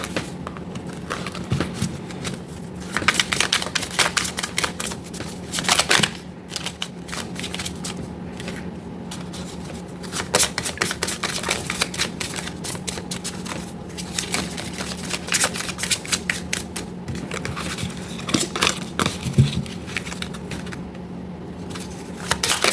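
Tarot cards being shuffled by hand, a close, long run of papery riffles and flicks in uneven bursts with short pauses, no voices.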